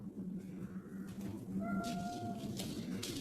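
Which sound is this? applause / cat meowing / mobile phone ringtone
cat meowing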